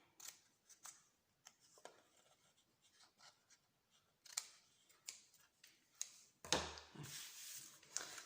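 Scissors cutting out a paper lid, with quiet intermittent snips and rustles building to a louder crisp burst of paper handling near the end, close and faint overall with no talk.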